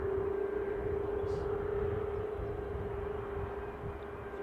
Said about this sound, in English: our easyJet is just passing over